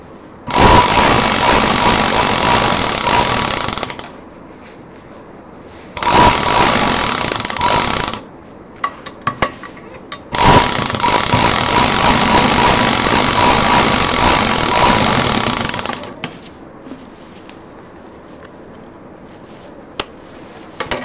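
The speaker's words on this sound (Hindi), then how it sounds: "ये जो जिप में अभी एक सिलाई चली है" A sewing machine stitches a zipper onto a handbag in three loud, close whirring bursts of rapid needle hum, separated by quiet pauses with small handling clicks.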